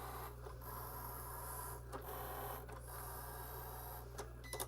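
A Cricut cutting machine cuts through card, a steady close mechanical whir and rasp running throughout, with short breaks where the carriage pauses and shifts.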